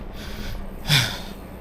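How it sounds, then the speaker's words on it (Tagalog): One heavy, snorting breath from a cyclist who is out of breath on a 26 km bike ride, close to the microphone over steady rolling noise. "Hinihingal na ako."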